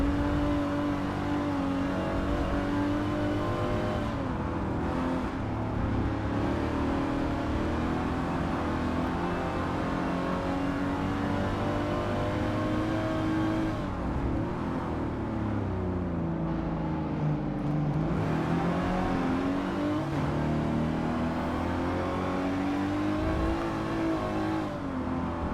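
Racing car engines drone steadily in Forza 7 as a vintage sport coupe pack competes, a continuous loud whine that rises and falls in pitch, with revs dipping and climbing as the cars push on.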